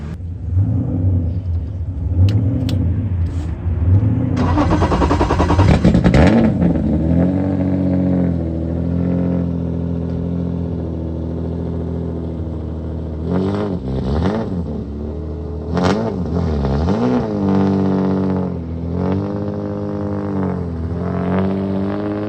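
A turbocharged drift car's engine runs steadily at idle with a low rumble, punctuated by a few sharp revs that rise and fall, loud and close.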